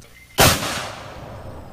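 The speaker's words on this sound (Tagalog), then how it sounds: "mga putok ng mortar ang umalingaw-ngaw" A single loud mortar blast during a military operation in Patikul, Sulu, striking sharply and then trailing into a long, rolling echo that fades over about a second.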